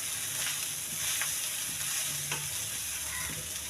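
Cooked rice and carrot are turned over in a hot pan, with continuous sizzling and repeated soft scrapes and taps of a spoon against the metal, close and steady with no talking.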